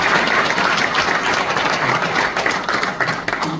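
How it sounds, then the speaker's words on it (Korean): Audience applause at a church dedication and founding service, sustained dense clapping from a large gathering filling the room, loud and steady for the whole moment. "큰 박수로 맞이합니다"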